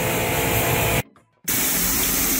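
Water sprays hard from a hose while cleaning dog kennels before the bully dogs are put back, a loud continuous hiss that stops for about half a second and then resumes just as strongly.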